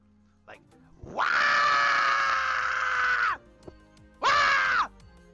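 A person's voice imitates a gremlin screaming like a banshee, giving one long drawn-out wailing scream followed by a shorter second burst, loud and close.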